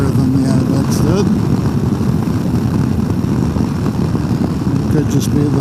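Royal Enfield Himalayan 450 motorcycle engine on the move in performance mode, a steady close drone blended with constant wind rush that holds level throughout without any clear rev changes.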